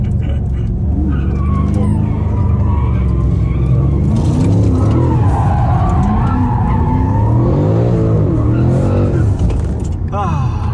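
A powerful car engine revs hard and climbs in pitch as it accelerates, loud and close over constant road and wind roar, with gear shifts between rising pulls.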